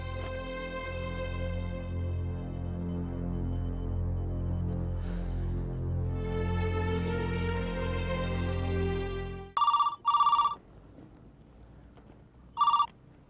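A telephone rings in a Hindi-language drama scene, three short bright electronic rings in quick succession after a long droning tonal hum, loud and close with no voices during the rings.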